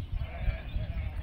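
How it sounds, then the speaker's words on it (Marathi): Sheep from a travelling flock moving along farm fields bleat in overlapping calls, fairly close and steady over a low rumble of movement and faint background voices. "मेंढ्या बघा"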